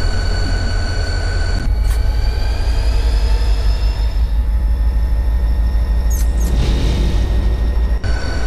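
An empty coal freight train from Train Simulator 2022 on the Butte Sub rumbles steadily with deep, continuous low engine drone and faint higher tones, sounding close and even throughout.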